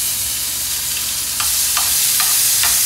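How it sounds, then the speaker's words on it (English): Minced garlic sizzles steadily in a pot, a constant bright hiss with a few light stirring clicks and scrapes breaking through in the second half. "pot and let that sizzle. Isn't that such a beautiful sound?"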